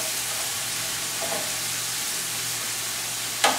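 Chicken strips frying in a pan, a soft continuous sizzle and hiss close by, ending in a sudden brief clatter.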